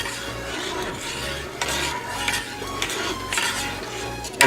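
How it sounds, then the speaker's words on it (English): A spoon stirs and scrapes a strawberry jelly mixture with butter in a pot on the stove, a continuous rasping rub with uneven strokes, close and moderately loud, no talk. "And from here on out, we need to stir this constantly."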